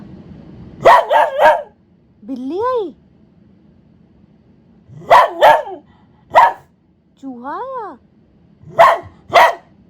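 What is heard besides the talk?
dog barking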